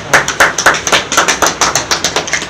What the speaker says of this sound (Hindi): तालियों की आवाज बहुत कम है